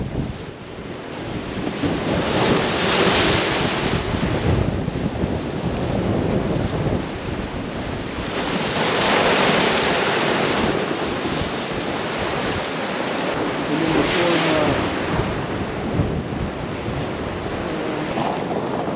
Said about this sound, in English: Just waiting for one of those bigger waves to come